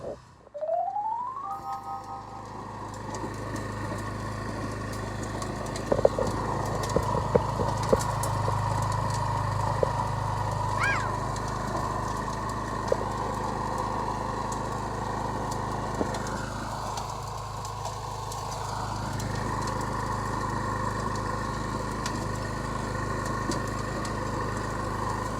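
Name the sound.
Honda rototiller engine running while tilling soil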